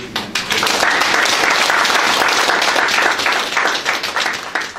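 A room full of people claps steadily for several seconds, a dense, even round of applause close by at a residents' town hall meeting, tapering slightly at the end.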